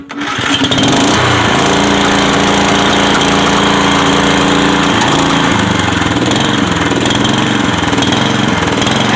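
Dixon ZTR 424 zero-turn mower engine starting up and running loud and close, its steady roar rising and dipping as it surges, with no voices over it.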